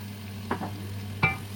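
Onions and prawns fry together in a pan over a steady low hum, with two brief utensil clinks or scrapes, near and fairly quiet, and no one speaking.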